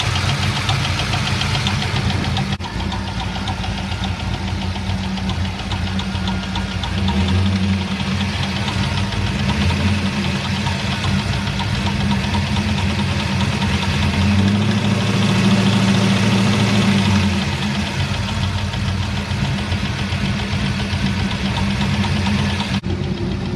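GM engine idling with the valve cover off and a faulty valve lifter, a steady rapid ticking over the low running drone, close and loud throughout with slight rises in engine speed.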